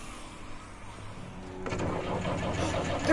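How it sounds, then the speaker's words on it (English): A truck engine in The Walking Dead game revs up partway through, starting quietly and swelling into a louder, rough mid-pitched roar toward the end, with no voices. "A truck revving!"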